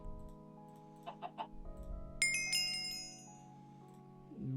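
A chicken in the modded Minecraft pack All the Mods 9 clucks three quick times under a steady low background hum, followed by a bright chime-like tone.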